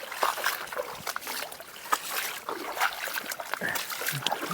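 Irrigation water flows and trickles across a wheat field on a farm, a steady watery splashing at moderate distance with faint background noise.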